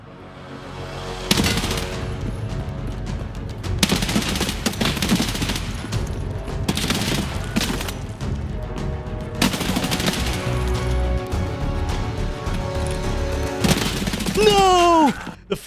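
An Escape from Tarkov firefight: loud, close bursts of automatic gunfire and a full magazine dumped in long strings of rapid shots, separated by short lulls, with a voice shouting near the end.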